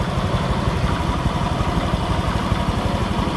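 A Honda Vario F1 scooter engine idles steadily while warming up, a dense, continuous low putter with fast regular pulses at constant level and no talk.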